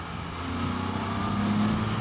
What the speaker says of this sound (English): I can hear the exhaust open up when it gets up around 5 there, opening it up in 4th.